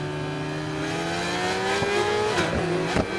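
Racing motorcycle engine from the RIDE 4 game in a Stock 600 Cup race, a high-pitched rev that climbs steadily and then drops sharply as it shifts, close and loud with a second bike audible nearby.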